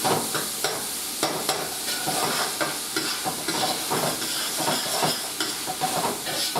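Sausage meat sizzles steadily in a pan for jambalaya, with repeated scraping stirs breaking through the frying hiss at close range.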